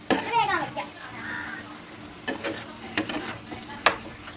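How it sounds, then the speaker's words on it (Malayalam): Tomato paste being stirred into a prawn curry in a pan, with soft scraping and a few sharp spoon clicks against the pan over low sizzling, and voices, including a child's, heard briefly at the start. "നമ്മുടെ തക്കാളി പേസ്റ്റ് അതിനകത്തേക്ക് ഇട്ട് കൊടുക്കാം. കുറച്ച് ഇട്ട് കൊടുക്കാം. നല്ല പോലെ ഒന്ന് മിക്സ് ചെയ്ത് കൊടുക്കാം."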